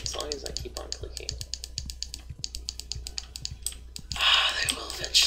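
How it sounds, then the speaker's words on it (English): Rapid mouse clicks rattle steadily while playing Terraria in expert hardcore mode, a close, dry tapping run that turns denser near the end, with faint game sounds underneath. "Just gonna keep on clicking."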